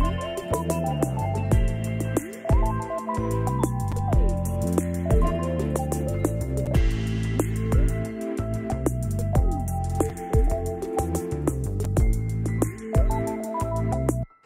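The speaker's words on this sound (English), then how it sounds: "So the stereo imager gives the track quite a bit of depth." A full music track mastered with a multiband compressor and stereo imager plays steadily and loudly with a dense, continuous mix, no voice over it.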